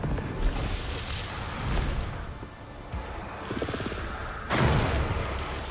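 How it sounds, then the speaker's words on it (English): Muffled explosion booms and rumbling blasts in Eternal Strands rise and fall in quick succession, with a sharper burst near the end amid busy game noise. "Explosions!"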